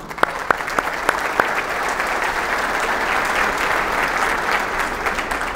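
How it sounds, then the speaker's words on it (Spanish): Conference audience applauding the event team, a few sharp early claps building into dense, sustained clapping from a large crowd, loud and continuous throughout. "así que un aplauso por ellos"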